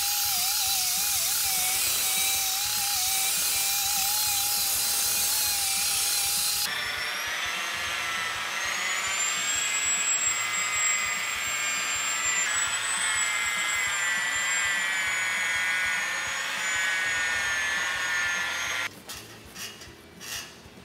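A rotary polisher with a blue foam pad buffs sanding scratches out of color-sanded car paint, a steady loud mechanical whine running continuously, changing pitch partway through before cutting off near the end.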